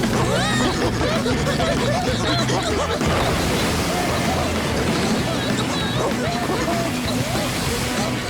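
A huge cartoon rush of water, a loud, constant roaring surge like crashing waves that fills the whole scene, with animated voices shouting over it.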